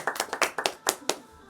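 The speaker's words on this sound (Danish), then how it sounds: "lille klap til dem" A small audience of three people gives a short burst of about eight quick hand claps, close and brisk, fading out after a second and a half.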